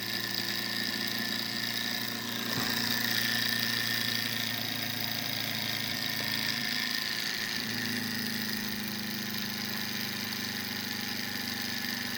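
A small Stirling engine runs on a desk with a steady mechanical hum and faint rhythmic vibration. The sound is quiet, continuous and even, with no talking.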